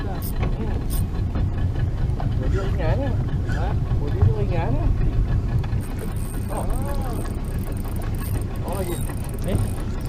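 A small fishing boat's engine runs throughout a night squid-fishing trip as a steady low mechanical drone, while people talk over it almost continuously.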